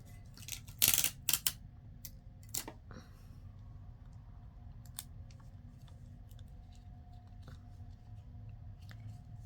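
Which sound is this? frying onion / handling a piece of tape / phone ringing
handling a piece of tape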